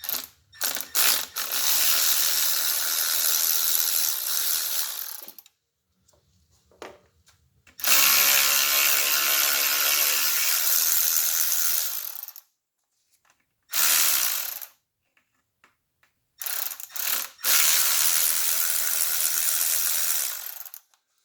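A ratchet backing out 10mm bolts from the transmission pan of a Chevy Aveo, rapid clicking in long runs of several seconds broken by silent pauses, close and clear.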